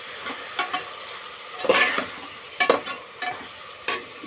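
Ingredients for akki husli, a rice breakfast dish, fry in a pan before the rice goes in. A low sizzle runs under irregular scraping bursts from a spatula stirring the pan, close and fairly loud, with no talking.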